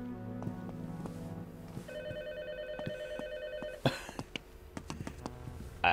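A telephone rings in the video game Republique Remastered, its repeated electronic ring tones sounding steadily over game music and ambience before a sharper clatter near the end.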